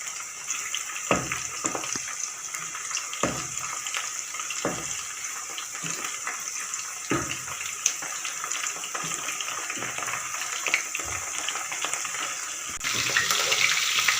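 Chicken pieces for chicken Manchurian fry in oil with a constant bright, hissing sizzle, broken by occasional soft knocks and stirring sounds, and the frying grows a little louder near the end.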